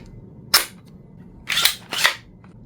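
Leedle's Lanka 2, a zero-hardware Nerf pistol, fires foam darts in three sharp pops: one shot alone, then two more close together about a second later, each crisp and near.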